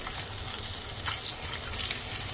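Eggs fry in hot oil for an egg potato curry, giving a steady, close sizzle with a bright crackling hiss that holds level throughout, with no voices.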